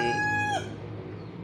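A rooster crows loudly once in a long rising-and-falling call that breaks off, followed by quieter farmyard background with faint clucking, in an Indonesian yard where a sick chick is being treated.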